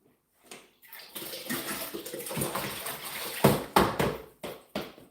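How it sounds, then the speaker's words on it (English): Running water at a kitchen sink while leafy green vegetables are rinsed, a steady splashing stream with louder bursts and splatters near the end, no voices. "So I'm just going to wash this bit off"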